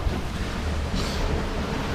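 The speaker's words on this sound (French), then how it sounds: "Les vagues sont énormes." Huge ocean waves rush and roar steadily around a racing Mini Transat sailboat surfing at about 12 knots offshore, blended with constant wind noise against the microphone and no voices.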